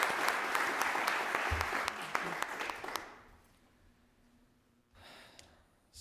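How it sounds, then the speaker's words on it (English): Crowd at an investiture ceremony in a federal courtroom gives a round of applause, steady clapping for about three seconds that quickly dies away into room quiet, followed by a brief shuffle. "Let's give her a round of applause,"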